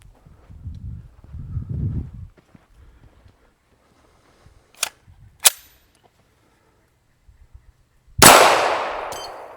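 Gunfire at a steel target, heavy Fouzi rifle: two sharp distant cracks with faint pings, followed by a loud close shot with a long decaying ring, separated by quiet pauses and low rustling.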